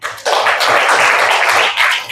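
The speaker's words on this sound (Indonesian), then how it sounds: "Tepuk tangan dulu untuk semua panitia" Audience applause for the organizing committee at a church camp session, a dense burst of clapping from a large crowd that swells after a short pause, holds steadily loud and tapers near the end.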